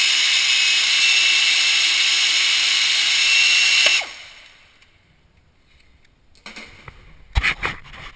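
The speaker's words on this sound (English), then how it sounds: "Now we remove this lower bolt from the serpentine belt tensioner assembly." A power tool removing the lower serpentine belt tensioner bolt on a Honda 3.5L engine, a loud continuous high whine for about four seconds that cuts off, followed by quiet and a few faint metallic clinks.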